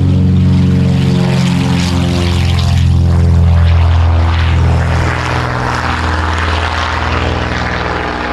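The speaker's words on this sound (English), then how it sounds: "They did that as a special flyby just for us." A small propeller plane makes a low flyby over Orkney, its loud droning engine and propeller buzz swelling close by and then easing slightly as it passes, with no talk.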